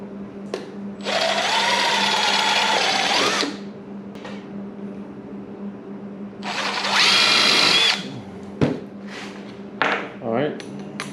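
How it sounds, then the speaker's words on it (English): A power drill whirs in two sustained bursts of about two and a half and one and a half seconds, close and loud, re-drilling pilot holes in plywood, with short clicks and handling noises between. "So what I'm going to do is re-drill my pilot holes"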